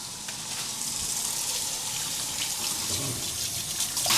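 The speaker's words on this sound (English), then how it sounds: "just rinse it off right quick" Water runs steadily from a kitchen tap as a pan is rinsed, a close, continuous hissing gush with splashing that swells slightly toward the end.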